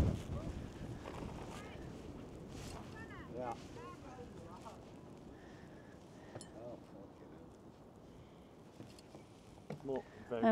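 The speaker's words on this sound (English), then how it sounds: "Oh gosh, the wind is coming up again." Wind gusting steadily across a coastal shoreline by the stromatolites, a broad, continuous rush with buffeting on the microphone and brief swells, while people talk faintly in the background.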